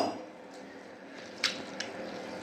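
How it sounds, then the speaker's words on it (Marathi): Half a kilo of urad dal is rinsed in water for medu vada, giving soft sloshing and squishing with a couple of sharper drips and splashes, quiet and close. "आता याला मी 3-4 पाण्याने स्वच्छ धुवून घेणार आहे."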